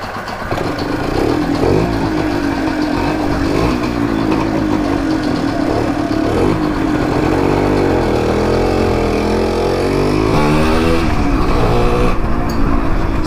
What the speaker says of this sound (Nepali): सो Yamaha Enduro 100 है. One of the vintage bike.